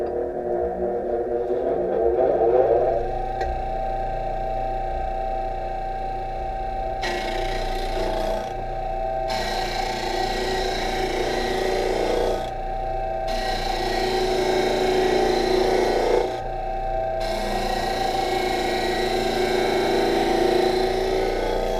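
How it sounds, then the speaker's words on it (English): A small wooden piece for a feature ring is sanded down toward a stop block on a power sander, a steady motor drone with rising grinding bursts as the wood is pressed in, with brief lulls between passes. "I'm going to sand one side down a ways, not to the stop block."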